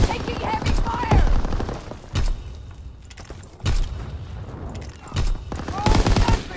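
Heavy gunfire and explosive thumps in Call of Duty WWII come in repeated loud bursts separated by brief lulls, with a shouted voice mixed in amid the battle noise.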